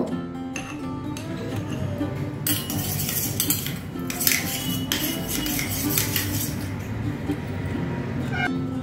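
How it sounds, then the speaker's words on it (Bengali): Spoon stirring yogurt loosened with mustard-rinsed water in a bowl for a Bengali fish dish, with soft clinks and scrapes against the bowl repeating over steady kitchen background noise. "সর্ষে ধোয়া জল দিয়ে দইটাকে একটু গুলে নিচ্ছি"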